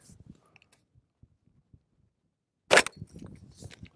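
A Cobalt Kinetics rifle with a 10.5-inch barrel fires a single 300 Blackout subsonic round at a concealable body armor vest. The sharp, loud crack stands out against near silence, followed by faint rustling.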